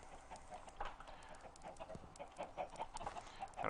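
Chickens cluck in a farming video game, short overlapping clucks repeating faintly over a steady low background hum.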